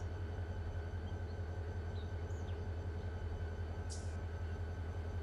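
A locomotive in the Run8 train simulator at Roseville rumbles with a steady low engine drone, continuous and even throughout, with a brief higher squeal near the end.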